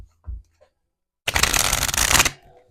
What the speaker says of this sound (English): That was a good shuffle